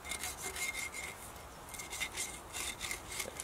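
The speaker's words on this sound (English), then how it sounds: "just getting all the sort of ash and embers and just the charcoal out of the flues." Ash, embers and charcoal being scraped and brushed out of a camp stove's flue pipes at a bell tent base camp, a steady run of rough rasping strokes close by, no voices.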